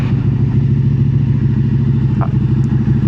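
A loud, rough motorcycle engine with its exhaust silencer removed idling close by, its uneven pulsing putter steady and unmuffled throughout.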